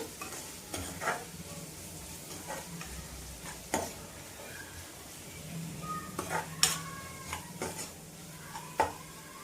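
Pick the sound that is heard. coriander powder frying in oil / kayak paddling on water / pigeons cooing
coriander powder frying in oil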